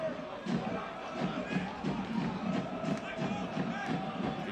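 Soccer crowd noise at a U.S. Open Cup match between Monterey Bay and San Jose Earthquakes, with the San Jose Ultras supporters celebrating: a dense, distant roar with rhythmic chanting and thumping pulses under a commentator's voice.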